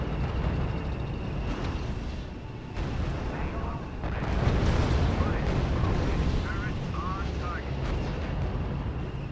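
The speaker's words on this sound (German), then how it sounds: "Sir, das Feldartilleriebataillon eröffnet das Feuer." Artillery fire and explosions in the strategy video game RUSE rumble as a continuous loud barrage of booms and blasts, with a voice talking over it.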